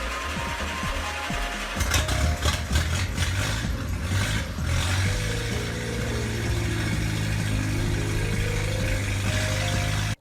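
Vapid Winky flathead engine from GTA San Andreas idles as a steady mid-pitched drone, with a brief rising rev and clattering early on before settling into an even hum.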